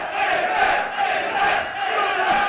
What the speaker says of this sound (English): Fantastic crowd getting behind him as well.